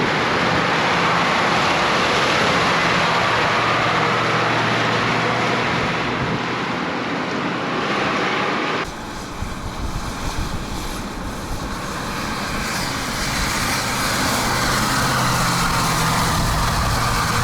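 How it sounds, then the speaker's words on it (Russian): A KamAZ 6x6 truck engine at full throttle in fourth low gear, pushing through deep mud off-road: a loud, continuous roaring drone that shifts in tone midway and stays heavy throughout, with no talk. "4-я пониженная, газ в пол, КамАЗ показал себя."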